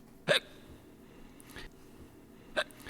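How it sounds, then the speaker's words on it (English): A man hiccuping during a podcast recording, three sharp abrupt hiccups spaced about a second apart, close and clear over a quiet room background. "he's got the hiccups"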